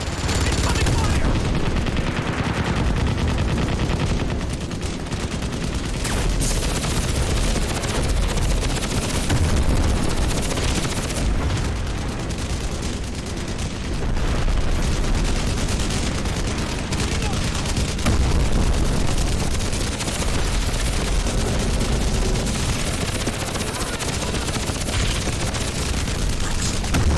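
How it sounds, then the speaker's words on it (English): Heavy gunfire fills a Crysis firefight on an island during an extraction, with rapid automatic bursts, explosions and a helicopter-like roar layered continuously, loud and close. "Incoming fire!"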